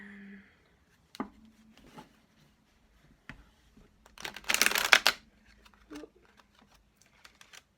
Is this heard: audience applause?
no